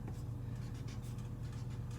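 A pen or marker scratches a bear's name onto a paper drawing, a close, quiet stream of short scratchy strokes over a low room hum, with no talking.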